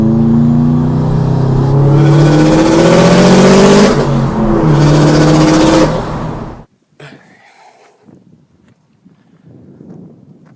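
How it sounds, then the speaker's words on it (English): A Subaru WRX engine revs hard and loud from close by in a strong, sustained roar that rises and surges, then cuts off abruptly, leaving quieter scattered road and cabin noise. "that backfire though"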